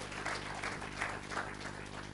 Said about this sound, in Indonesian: Tepuk tangan yang meriah buat Tuhan kita.